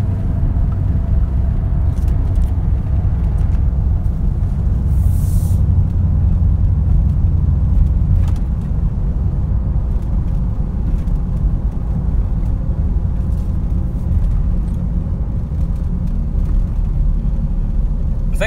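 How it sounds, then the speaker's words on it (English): A Nissan Titan pickup truck engine runs at a steady idle, with a loud, continuous low rumble throughout and a few faint clicks over it. "But the truck runs great. A lot better than it did."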